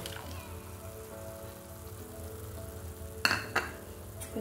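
Spice paste frying in oil as tomato puree goes in, a soft steady sizzle and crackle under a faint background hum, with a couple of sharp clinks of a utensil against the pan near the end.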